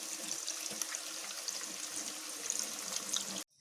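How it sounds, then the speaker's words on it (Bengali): Fiddlehead fern greens rinsed thoroughly under a running kitchen tap, giving a steady close splash of water that continues without a break and then stops abruptly near the end. "ঢেঁকি শাকগুলোকে আমি ভালোভাবে ধুয়ে নিচ্ছি"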